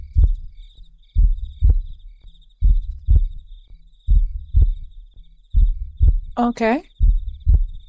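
A game sound effect imitates a heartbeat with a deep, regular, thumping pulse in paired beats. Faint insect-like chirps run underneath, and a person speaks briefly near the end.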